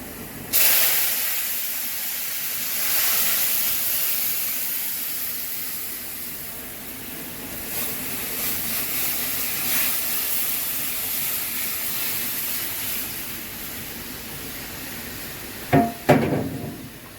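Dal tempering (bagar) hisses and sizzles in hot oil, a sharp burst of spitting at the start easing into a steady frying hiss, with clanks of a utensil near the end.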